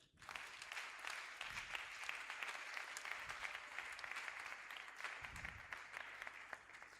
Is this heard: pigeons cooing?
no